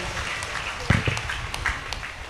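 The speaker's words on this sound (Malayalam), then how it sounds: "കൈയടിച്ച് കർത്താവിനെ സ്തുതിച്ചേ." A church congregation applauding during a healing service, a dense burst of clapping from many hands heard at a moderate distance, brief and steady.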